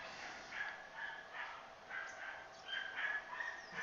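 Several neighbours' dogs bark in repeated, uneven bursts, faint and at a distance, heard through a radio link on a QO-100 satellite amateur net, with some whimpers and yips mixed in and no talking.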